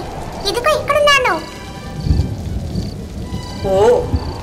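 Steady cartoon rain hisses under a thunder rumble that swells near the middle, while animated character voices talk over it.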